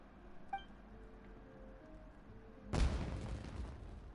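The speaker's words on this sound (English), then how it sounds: "Was that an explosion? It sounded like fireworks." A sudden, loud, fireworks-like explosion in the video game Genshin Impact bursts out and then crackles and rumbles away over about a second and a half. It follows a quiet stretch of faint ambient game sound.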